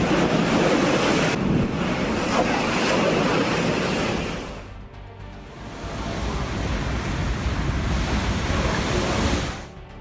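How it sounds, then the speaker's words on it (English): Ocean waves crash and pour over a breakwater in Brittany, a loud, continuous roar of surf and spray with wind rushing across the microphone, easing briefly midway before surging again. "Waves poured over the breakwater in Brittany like a fierce dance of the sea."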